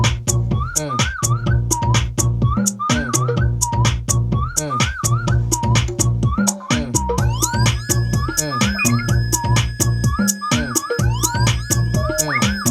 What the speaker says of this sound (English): On that top whistle, I'm just extending the delay.